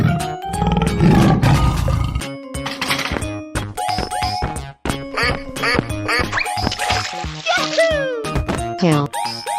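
Tiger roaring amid a busy children's animal-sound sequence, with a loud growling roar up front followed by choppy cartoonish calls, squeaks and effects in quick succession.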